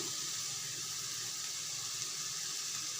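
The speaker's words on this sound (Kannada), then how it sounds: "ನೀರು ಜಾಸ್ತಿ ಏನು ಬೇಡ, ಸುಮ್ಮನೆ ಒಂದು ಸ್ವಲ್ಪ ಚಿಮ್ಸ್ಕೊಳ್ಳೋಣ" A little water is sprinkled into a pan of cooking okra: a steady, even hiss and sizzle that holds for the whole stretch, fairly soft and with no voices.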